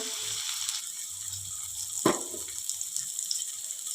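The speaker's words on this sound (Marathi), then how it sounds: "जिरं छान प्रकाराचे कांदे मी बारीक कट करून घेतलेले आहेत हे कांदे घालूया" Finely chopped onions hit a kadhai of hot oil already crackling with cumin seeds: a steady bright sizzle with a sharp burst near the middle as they drop in, then a continued close hiss.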